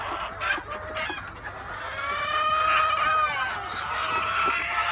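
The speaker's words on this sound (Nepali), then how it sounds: "कुखुरै कुखुरा ततातै कुखुरै कुखुरा" Local chickens on a hatchery farm cluck continuously while a rooster crows over them, loud and close, with several overlapping calls and no speech.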